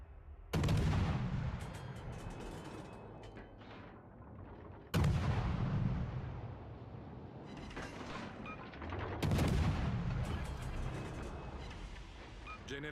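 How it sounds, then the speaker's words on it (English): Three heavy ship's gun salvos boom in a naval video game, each a loud sudden blast that rolls off into a long rumbling decay, spaced about four seconds apart. "So, do we want to shoot our guns?"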